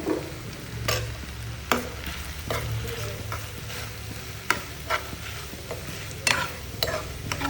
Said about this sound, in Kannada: ಹಿಂಗೆ ಫ್ರೈ ಮಾಡಬೇಕು ಗೈಸ್ ಅದು ಫುಲ್ ಡ್ರೈ ಆಗಬೇಕು